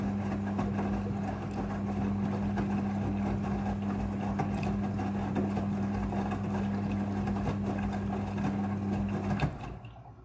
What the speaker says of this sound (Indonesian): Air akan mengisi secara otomatis.